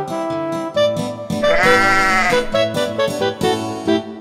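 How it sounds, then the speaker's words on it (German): Black sheep bleating in a children's song, several loud wavering baas over a bouncy instrumental backing, one long drawn-out bleat in the middle. "Kommt, wir besuchen das schwarze Schaf."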